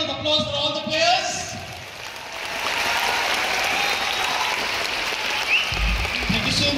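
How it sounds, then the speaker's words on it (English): A large crowd applauds karate players in an indoor stadium at an international karate championship in Kolkata, loud, sustained clapping filling the hall, with voices and a brief amplified announcement over it at the start. "Can we have a big round of applause for all the players?"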